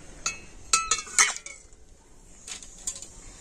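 A metal tiffin box lid clinks and taps several times as it is set into hot oil, bright sharp metallic knocks spaced apart and fairly close.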